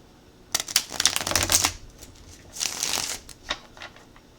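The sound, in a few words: shuffling cards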